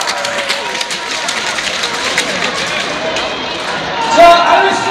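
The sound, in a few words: applause in a volleyball gym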